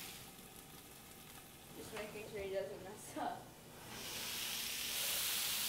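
Onions and beans sizzle in a hot pan while succotash cooks, a soft steady hiss that swells into a louder, brighter frying roar toward the end, with brief speech in the middle.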